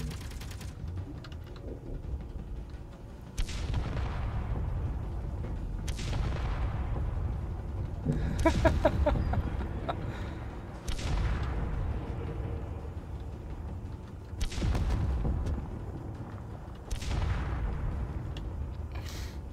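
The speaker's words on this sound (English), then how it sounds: "Just no more shooting of small ships." Heavy weapon fire at small ships in the space-building game Space Engineers: about seven sharp, loud blasts spaced a couple of seconds apart, each with a long rumbling decay, with no talk over them.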